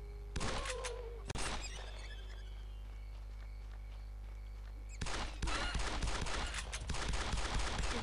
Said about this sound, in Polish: Oczywiście, że tak strzelam byle gdzie wręcz, ale to moja sprawdzona metoda